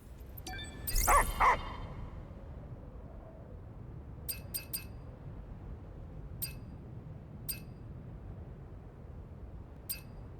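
A dog in the Stellar Blade video game gives a short burst of several close barks early on. Afterward come only sparse light clinks and ticks over a quiet background hum.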